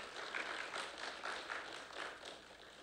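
Scattered applause from an audience at a round-table gathering, a steady broadband patter of clapping hands that swells slightly in waves, moderately faint and heard from a distance.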